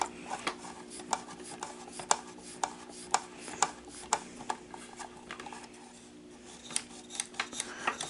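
A Sanyo Beta VCR mechanism rewinds tape with a steady motor whir, overlaid by regular clicking and ticking from the moving parts, close and fairly quiet.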